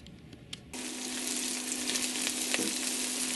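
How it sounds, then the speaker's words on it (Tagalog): Garlic and onion hit hot cooking oil for chicken guisantes. A few light clicks come first, then a loud sizzle bursts up and stays steady and close to the end. "Nang mainit na yung cooking oil, nilagay ko na yung garlic at yung onion"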